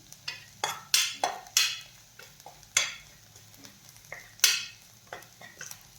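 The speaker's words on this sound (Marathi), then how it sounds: "गरम मसाला, हळद आणि हे मसाले छान आपल्याला परतून घ्यायचे आहेत" Garam masala, turmeric and ground spices stir-fried in a pan for Shegaon kachori filling, with repeated sharp scraping spatula strokes over a low sizzle and irregular bursts of stirring. No voices.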